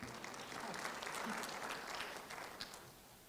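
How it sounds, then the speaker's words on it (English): Steady applause from a crowd at the Pan African Youth Convention in Kenya, many hands clapping continuously at moderate distance, fading slightly toward the end. "That's where you clap."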